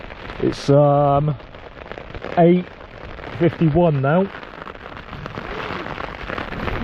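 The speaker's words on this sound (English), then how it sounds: "Still raining." Rain patters steadily on a Jack Wolfskin Gossamer tent during wet, windy trail camping on the Kintyre Way in Scotland, a soft continuous crackle while someone talks close by at intervals.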